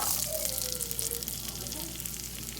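Butter and onion sizzling in a hot pan holding leftover meatball bits, a steady hissing fry that runs throughout, fairly faint, with a brief low murmur of a voice.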